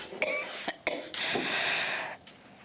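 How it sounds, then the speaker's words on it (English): A few short, muffled coughs close by, fairly quiet over a steady hiss. "I'm gonna cough now"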